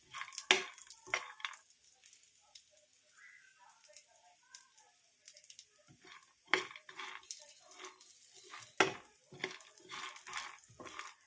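Dry fruits roasting in ghee in a pan on low heat, with soft irregular stirring clicks and scrapes over a faint sizzle, quiet and close.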